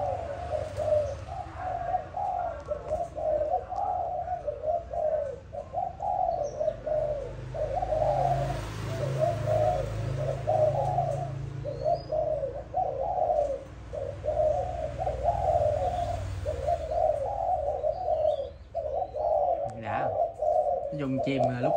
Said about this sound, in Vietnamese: nó gù khủng lắm, gù siết bỏ được dữ dằn lắm nha